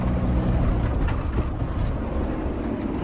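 A car climbing a steep sealed road on the Tarkine Drive in Tasmania, crawling uphill in second gear, with a continuous loud low engine rumble and road noise throughout.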